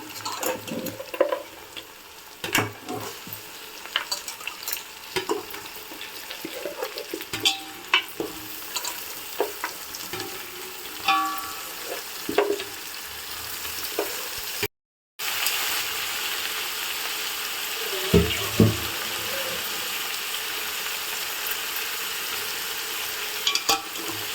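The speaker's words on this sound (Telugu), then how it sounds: "మొత్తం ఆయిల్లో కలిసే వరకు కలుపుకుందాము." Washed goat head and trotter pieces stirred in hot oil for a Hyderabad-style goat head curry, with scraping clatter and a steady sizzle over most of the stretch, briefly cutting out before a louder, hissier frying resumes.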